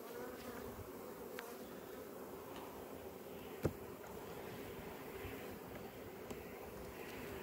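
Honeybees hum around a hive in a steady, dense buzz close by, with a few faint ticks and clicks scattered through.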